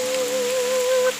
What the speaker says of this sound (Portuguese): começou a chover muito